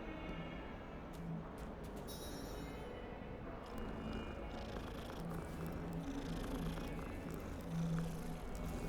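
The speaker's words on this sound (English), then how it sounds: "Mostly there are cats." A cat purrs steadily and close in the video game Hogwarts Legacy, a low continuous rumble running the whole stretch beneath faint ambient game sound.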